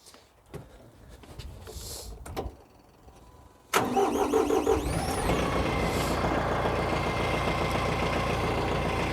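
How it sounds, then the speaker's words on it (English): A TYM F50R tractor engine cranks and catches at once, then runs loudly and steadily as it pulls away, a rough mechanical rumble throughout. "And I'll show you that now and drive the tractor away."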